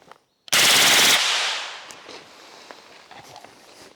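A B&T APC 9mm submachine gun in a video game rips off one sustained, loud burst of automatic fire lasting about half a second, then a fading echo and scattered light footstep-like clicks follow.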